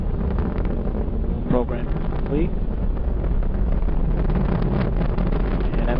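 Atlas V rocket engines roaring during a launch, a dense, continuous low rumble heard from a distance under a radio voice giving launch commentary.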